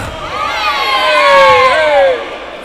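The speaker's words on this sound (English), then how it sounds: "And we have our lovely parents yelling and screaming" Parents in the stands at a youth basketball game yell and scream, a loud swelling crowd cheer that rises, peaks midway and fades, with shrill whoops on top.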